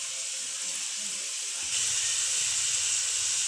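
Potato french fries are double-fried in hot oil for a crisp finish, giving a constant bright sizzling hiss that swells louder partway through, close and steady with no voices.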